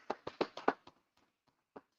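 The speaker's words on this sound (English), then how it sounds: "Let's clap it up for the Most High in Christ." A short burst of about six hand claps in quick succession, close and crisp, followed by a few faint scattered taps and one last lone clap after a pause.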